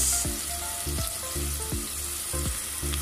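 Oil sizzles steadily around onions frying in a pot, with a broad hiss and a few soft clinks and stirring knocks at irregular intervals.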